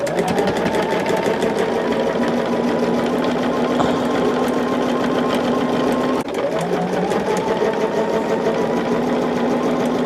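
Sewing machine running steadily while quilting fat-quarter blocks, a loud close continuous whirring hum with a rapid needle rhythm, briefly pausing and changing pitch partway through.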